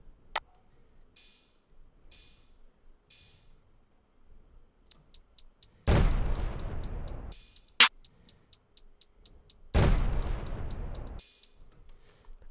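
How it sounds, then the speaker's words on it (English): An open hi-hat sample in an FL Studio trap beat sounds as several bright, airy sizzles, then sits inside a pattern of rapid ticking hats alongside two loud, broad noise bursts, crisp and close. "I also have this open hat,"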